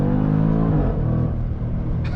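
A 2024 Jaguar F-Pace SVR with its V8 pulls hard under acceleration, a loud, steady engine roar from inside the cabin that climbs and holds with rich low rumble, with no talking.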